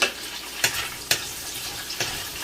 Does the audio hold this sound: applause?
no